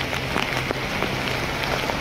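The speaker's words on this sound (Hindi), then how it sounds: "बारिश लगी हुई है" Continuous rain hiss on an island street in Phuket, Thailand, with scattered faint taps of drops hitting a surface, steady and close throughout.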